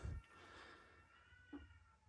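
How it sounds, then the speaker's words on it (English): A cat meows outdoors, a drawn-out, wavering cry with a caterwauling edge that fills most of the clip before a second, shorter call near the end. "that is in fact a cat, not a child"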